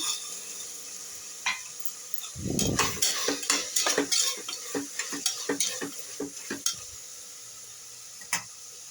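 Sweet corn tossed into a hot pan with fried greens lands in a burst of sizzling, then a spoon scrapes and clinks rhythmically against the pan in repeated stirring strokes, close by, with no talking.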